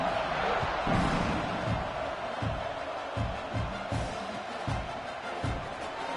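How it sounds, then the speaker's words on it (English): A football stadium crowd at a Michigan versus OU game buzzes in a broad, steady roar right after a score, with dull rhythmic thumps pulsing beneath the noise. "this crowd is buzzing after that last score"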